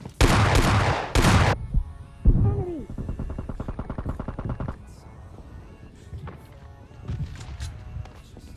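Gunfire in the mobile shooter PUBG Mobile Lite, with several loud close bursts at the start, then a rapid rattling volley and scattered fainter shots, with game sounds and faint background effects.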